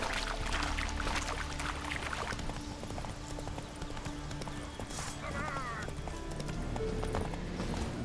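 Hooves of the horse Roach clip-clopping in a steady walking rhythm in The Witcher 3, with a brief whinny midway, under game sounds and a voice speaking.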